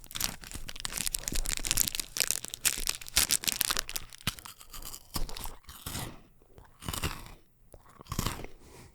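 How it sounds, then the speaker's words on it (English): Crunchy chocolate candy chewed right up against the microphone, with sharp crunches and bites mixed with crinkling wrapper plastic, loud and close throughout with brief quieter gaps. "food and wrapper ASMR into the microphone"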